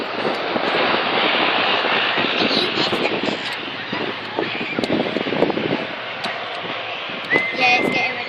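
A Virgin Atlantic Boeing 747 at Manchester Airport gives a steady broadband jet-engine roar mixed with wind buffeting on the microphone, continuous and fairly loud throughout, while voices talk intermittently over it.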